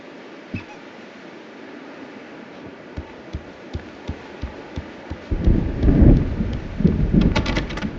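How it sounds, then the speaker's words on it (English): An approaching thunderstorm in the video game Alan Wake rumbles up from a quiet start with steady rhythmic thumps, then swells into loud, rolling thunder and rain-like noise in the last few seconds, with no speech. "The storm is almost here."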